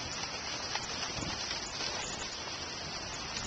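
Steady rain pours during a thunderstorm, a dense, even hiss with soft patter that holds at a constant level throughout, heard from shelter with no thunder or voices standing out.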